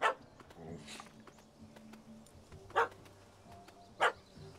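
In The Witcher 3, a dog barks in short, separate bursts, three sharp yaps spaced a couple of seconds apart over a quiet background with faint clip-clop and low murmurs.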